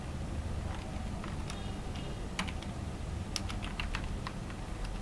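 Java code being typed on a computer keyboard in BlueJ, with steady irregular key clicks and occasional sharper taps over a low background hum, and no talking.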